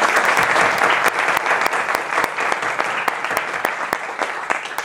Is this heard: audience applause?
yes